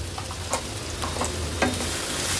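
Ginger-garlic paste sizzles with chopped onions and green chillies in a hot pan for an Agri Koli fish thali. A steady close frying hiss runs throughout, with a few light spatula scrapes.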